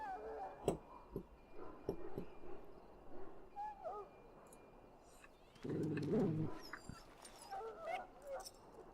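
A very sick dog whimpers and whines in Dragon Age: Origins, faint high whines interrupted by soft knocks and a short louder burst of low sound midway, quiet and close.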